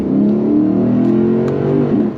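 The V8 of a Lexus RC F Track Edition pulls hard on full throttle, heard from inside the cabin as a loud, rising engine note that climbs steadily through the rev range and eases off at the end.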